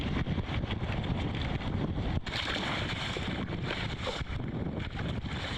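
Steady outdoor wind buffets the microphone in a dense, roaring rumble with gusting swells, like conditions aboard a small boat on open water.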